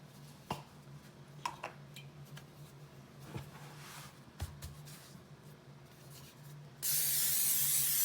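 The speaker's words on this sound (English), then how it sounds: "spray some spray butter on it." Spray butter is misted onto bread dough for cinnamon raisin bread, arriving as a few faint taps and rustles followed by one loud, close, sustained hissing spray at the end.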